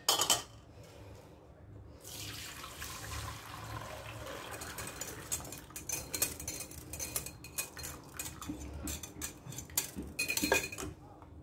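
Crème caramel custard mixture being strained through a sieve, with metal utensils clinking and scraping against a bowl in irregular bursts, close and fairly loud, without talk.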